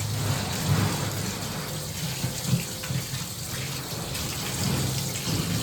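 Tap water runs steadily into a sink while mutton is washed, a continuous close splashing stream with small fluctuations and no talk.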